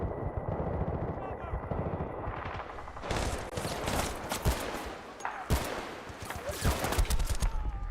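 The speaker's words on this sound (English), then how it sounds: "Fuck this guy shooting me with a machine gun too." Rapid machine gun fire in the war shooter Battlefield Bad Company 2, with dense overlapping bursts that start after a quieter opening and continue loud and close, mixed with explosions and game ambience.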